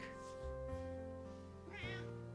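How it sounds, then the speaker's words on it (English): A pet cat meows indoors, a couple of close, drawn-out tonal calls with a short pause between them, heard alone and fairly quiet against a faint steady hum. "My cat is looking at me like, what do you mean I don't need to eat plastic?"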